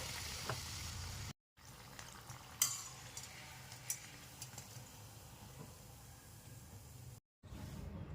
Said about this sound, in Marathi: हे देखील आपल्याला दोन्ही बाजूने चांगले तळून घ्यायचे आहे